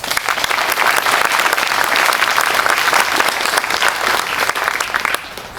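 A crowd at a military academy graduation ceremony claps steadily in a dense, continuous wash of applause that tapers off slightly at the end.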